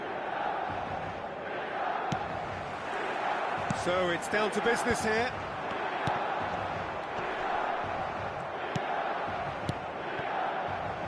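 A football crowd at the San Siro stadium, decked in red and black, keeps up a steady roar with a brief burst of chanting, under continuous commentary.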